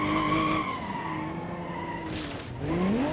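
A car in the BeamNG.Drive racing game, an ETK i-Series, skids and slides down a hill with a steady engine drone and sustained tire squeal, loud and continuous with no talk.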